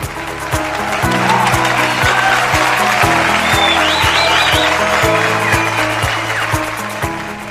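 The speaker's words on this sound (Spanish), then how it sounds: "Démosle un fuerte aplauso" Applause rises from an audience at a Chilean mental health programme event, a steady wash of clapping under loud rhythmic music with a thumping beat throughout.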